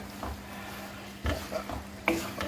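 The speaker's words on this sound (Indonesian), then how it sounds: "Ini kita campurkan bumbu yang sudah dihaluskan, kita oseng dulu ya teman-teman" Ground spice paste stir-fried in a little oil in a pan for chicken Coto Makassar, with soft scraping strokes and a light sizzle coming in a few distinct bursts, close and fairly quiet.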